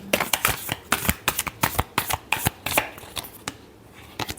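Tarot cards are shuffled in quick riffling bursts, a close series of sharp papery flicks and snaps, about a dozen in rapid succession before trailing off, with no voices.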